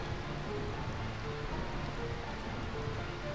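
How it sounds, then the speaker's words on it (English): Rain falls steadily in the Final Fantasy IX role-playing game, a dense, even hiss of drops on surfaces that stays constant throughout with no voices. "I found this rain quite pleasant."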